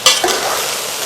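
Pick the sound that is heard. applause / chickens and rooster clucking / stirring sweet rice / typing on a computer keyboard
stirring sweet rice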